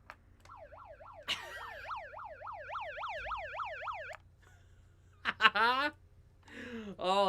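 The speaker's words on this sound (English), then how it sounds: "Oh, there's a siren." An emergency vehicle siren wails in a rapid rising-and-falling yelp for several seconds, fairly clear and prominent, then cuts off, followed by a few short electronic chirps and bursts near the end.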